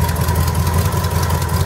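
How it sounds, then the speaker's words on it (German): A 1969 Ford F-100 pickup with a 360 V8 idles steadily, a loud, close, even low rumble that runs smoothly throughout with no talk. "360er Motor, läuft sehr schön."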